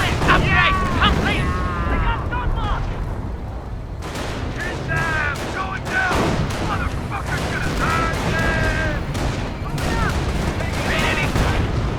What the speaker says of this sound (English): Taking fire from enemy infantry!